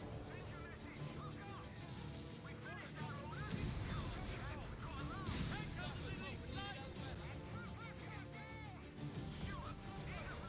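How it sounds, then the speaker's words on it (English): Artillery fire booms repeatedly in a Call of Duty-like war video game, a dense, constant roar of blasts and debris under overlapping game voices and player chatter. "artillery should do it"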